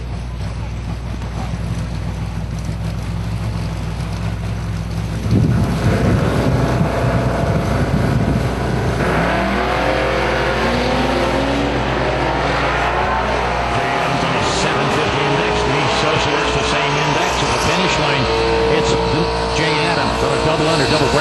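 Drag racing cars, a Macca City 750 index car among them, running down the track in an outlaw drag racing championship, a loud sustained engine roar with wind buffeting and a commentator talking over it.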